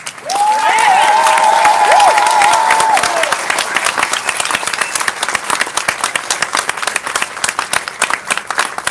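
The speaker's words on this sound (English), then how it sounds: "Ladies and gentlemen, please join me in a round of applause for the company staff of Company F." A large audience at a Marine Corps graduation ceremony for 2nd Battalion applauds Company F's staff, a loud, dense wave of clapping that thins into scattered claps; a sustained band tone plays over the first three seconds.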